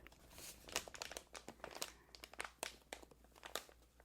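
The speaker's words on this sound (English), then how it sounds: "The paper is almost thicker. It makes more sharp cracks, but honestly, I prefer this sound." Thick paper, reminiscent of old scroll or map paper, is crinkled and crushed close up, producing a quick irregular series of sharp crackling bursts and softer rustles with brief pauses, quiet and alone.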